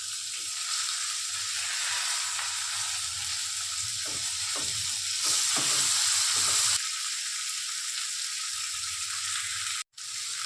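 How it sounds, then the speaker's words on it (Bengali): Chopped onion added to frying potatoes in a pan, a steady close sizzle and hiss throughout with a few brief stirring scrapes midway, loud and alone without talk. "এরপর এর মধ্যে আমি কেটে রাখা পেঁয়াজটা দিয়ে দেব"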